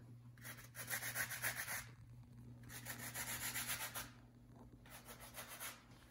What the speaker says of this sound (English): Just kind of like a half of the lemon, just the zest